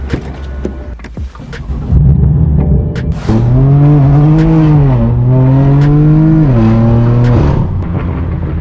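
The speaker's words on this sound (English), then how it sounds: "Let's get on the road and tear up the streets." A straight-piped BMW M4 F82 pulls onto the road, its engine rising into a loud, raspy drone that climbs and shifts pitch in steady pulls after some lighter mechanical clatter at the start.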